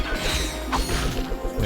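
A Mini Nuke Launcher blast from Ratchet and Clank 2 erupts as a loud crashing explosion with a sharp impact burst near the middle, followed by rumbling debris-like noise over a steady game soundscape.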